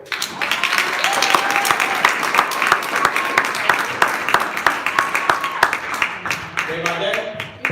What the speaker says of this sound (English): give a warm round of applause for someone that's going to raise that bar up and past the sky.